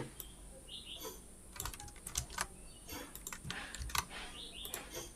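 Rapid bursts of keystrokes on a computer keyboard as Java Stream API code is typed in a programming class, quiet and close, with short pauses between clusters of clicks.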